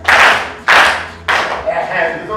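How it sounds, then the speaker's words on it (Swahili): A classroom of pupils bursting into applause for a classmate, three loud, close rounds of clapping, each starting sharply and fading, with a few voices audible as the last round dies away. "Tumpigie makofi."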